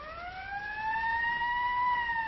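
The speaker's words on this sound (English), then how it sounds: "There's the ambulance now." A wailing ambulance siren rises and glides in pitch, heard clearly but at a moderate distance with no talking.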